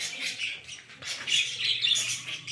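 Budgerigars squawking and chirping in a breeding setup, a busy cluster of sharp, near calls rising and falling in bursts while the birds wait for water.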